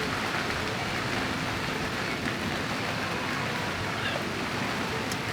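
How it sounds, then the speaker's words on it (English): Rain falls all around on Sentosa Island, Singapore, as a dense, even hiss of drops on surfaces, steady and fairly loud throughout with no speech. "And it just started raining all around"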